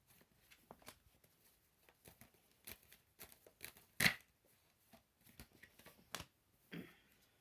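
Tarot cards being shuffled and drawn by hand, quiet papery riffles and soft slaps in scattered bursts with one sharper snap, close and faint, no talking.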